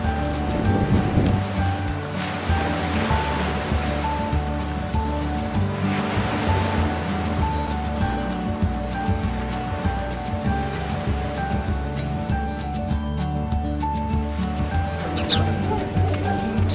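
Sea waves wash onto a beach in steady, continuous surf, with no voices, while a pebbly shore is searched for stones.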